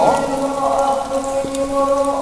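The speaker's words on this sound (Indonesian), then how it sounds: "Ini hujan nih." Rain dripping and pattering steadily on a surface, a dense close texture of drops with a sustained tonal drone underneath throughout.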